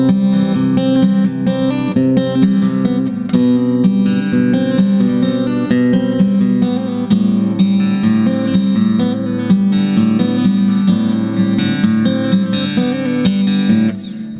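Guitar playing the opening part of a song, a continuous stream of picked and strummed notes ringing steadily and fairly loud for the whole stretch, with no voices.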